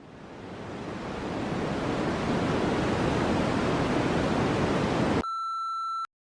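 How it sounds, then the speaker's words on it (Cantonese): White noise played as a background sound, a loud steady hiss that swells in gradually, then cuts to a brief pure electronic tone before going silent. "我哋可以試下播下啲噪音啊，譬如話白噪音啊"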